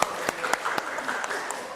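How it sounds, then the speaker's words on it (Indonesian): A handful of scattered claps from a small class group, sparse and fairly faint, with a few sharp individual hand claps standing out over murmuring voices. "Berikan tepuk tangan untuk kita semuanya"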